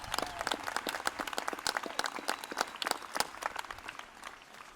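Scattered applause at a 2018 college commencement ceremony, individual claps distinct and irregular, moderately distant and thinning out toward the end.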